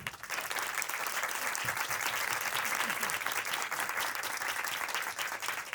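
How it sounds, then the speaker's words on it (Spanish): An audience at a film screening and discussion event applauds the film's director. Steady, dense clapping from a sizable crowd, moderately distant and sustained throughout. "Un aplauso, por favor."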